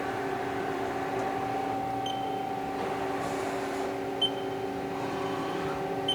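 Haas ST-40 CNC chucker lathe, a 2012 machine, running quietly as it jogs its axes: a steady mechanical hum with tonal whine layered over it, plus a couple of faint clicks, with no talking.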